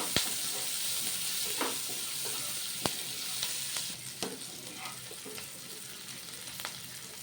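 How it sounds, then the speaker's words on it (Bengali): Onions fry in a pan for an okra, potato and besan curry, a soft continuous sizzle with occasional spatula clinks and stirring scrapes, quiet and with no one speaking. "লাল লাল করে ভেজে নেব পেঁয়াজগুলো।"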